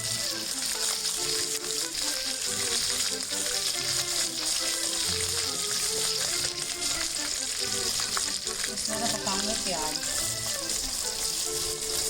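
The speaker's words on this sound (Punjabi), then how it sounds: "ਤੇਲ ਜੀ ਆਪਣਾ ਚੰਗੀ ਤਰ੍ਹਾਂ ਗਰਮ ਹੋ ਚੁੱਕਿਆ ਤੇ ਆਪਾਂ ਇਹ 'ਚ ਮਾਵਾਂਗੇ ਸੁੱਕੇ ਮਸਾਲੇ ਰਾਈ ਜੀਰਾ" Mustard seeds, cumin and Kashmiri red chilli frying in hot oil for a pointed gourd curry, a steady dense sizzle and crackle running loud and close throughout with faint stirring.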